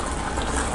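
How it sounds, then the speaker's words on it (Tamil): Mutton kuzhambu boiling hard in a pot as its water reduces, a dense, loud, continuous bubbling and hissing heard up close for under a second. "தண்ணி நல்லா சுண்ட ஆரம்பிச்சிருச்சு."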